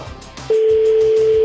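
A single steady tone sounds on an outgoing telephone call, starting about a third of the way in and holding unbroken to the end after a brief moment of faint room noise.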